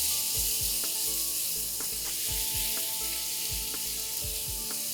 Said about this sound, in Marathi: आलं लसणाचा कच्चा वास जाईपर्यंत आपण हे परतून घेणार आहोत